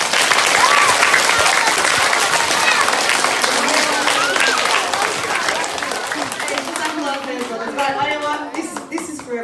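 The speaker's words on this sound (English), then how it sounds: "Big clap, guys!" An audience at a school awards ceremony claps loudly, dense applause filling the space, then thinning as voices begin to talk over the fading claps.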